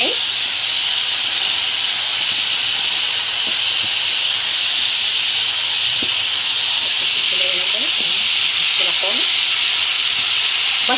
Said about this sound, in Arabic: نديله صدمه كده، تشويحه كده في الزيت وهو سخن